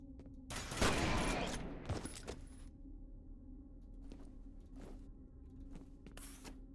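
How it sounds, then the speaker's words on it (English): A short burst of distant video-game gunfire from another player crackles loudly at first, then fades into a low hum with scattered faint shots, no talking. "Someone else did shoot at me."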